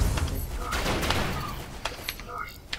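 SMG gunfire in the Robocraft video game, a dense rattling fusillade of rapid shots with scattered impacts, heard over steady game noise and a talking voice.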